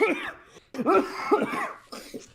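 A person coughs in a few harsh, breathy bursts close by, with pauses between them.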